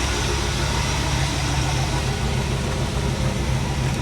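A Chevrolet small-block 350 V8 idles steadily, a continuous loud rumble with an even low throb that holds without change throughout, close to the engine and with no talking.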